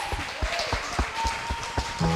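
Steady rhythmic clapping from a church congregation, roughly four claps per second, with a sustained musical tone underneath.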